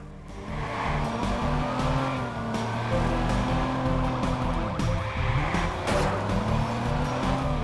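A car in the Watch Dogs video game drives with a steady engine drone that rises and falls through gear shifts, with tire squeals and skids along the way.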